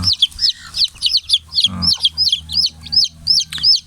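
Chickens let out of their coop cluck in quick repeated bursts close by, a rhythmic chorus of short calls with one lower squawk midway.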